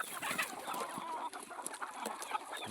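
Village chickens in a small enclosed coop, a busy overlapping chorus of clucks and squawks from several birds, close and steady over a soft hissy background.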